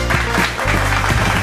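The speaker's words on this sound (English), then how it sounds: "A big round of applause, please" A crowd claps steadily in dense, continuous applause at a recorded virtual talk show, over a low background hum.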